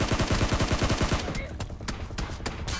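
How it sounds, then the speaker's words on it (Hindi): Gunfire in a PUBG-style battle-royale shooter game, including AWM sniper fire, comes as a dense rapid burst of shots at the start, then sparser sharp cracks follow; a voice talks faintly underneath. "भाई मैं सील्ड के अंदर प्री फायर में नॉक हो गया।"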